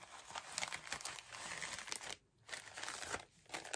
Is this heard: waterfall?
no